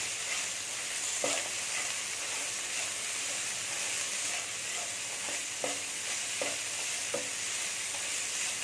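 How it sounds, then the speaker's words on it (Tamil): Raw banana podimas fries in oil with turmeric while being stirred now and then, making a constant soft hiss with scattered light scraping taps of the spoon. "அப்பப்போ கிளறி விட்டு இந்த எண்ணெயிலேயே வெந்துடணும்"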